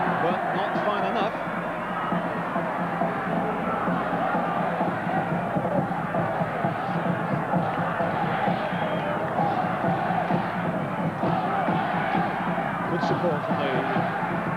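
Home crowd at a 1981 World Youth Championship football match between Australia and Argentina, a steady massed murmur and roar of supporters with scattered shouts and claps, under a commentator's voice.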